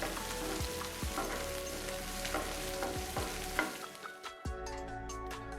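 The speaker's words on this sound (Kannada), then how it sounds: "ಈರುಳ್ಳಿ ಎಣ್ಣೆಯಲ್ಲಿ ಸ್ವಲ್ಪ ಫ್ರೈ ಆಗಲಿ." Sliced onions sizzle in hot oil in a pan while making Togarikalu palya, a steady crackling fry broken by periodic scrapes and clinks of a spoon stirring, close and clear with no talking.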